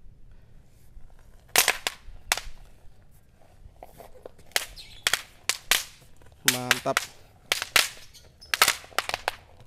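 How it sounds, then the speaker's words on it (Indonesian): Five thousand bang snap firecrackers set off at once, a burst of sharp, loud cracks in irregular clusters with brief gaps between them. A short spoken remark comes in near the middle. "eksperimen menyalakan 5000 petasan bantingan sekaligus"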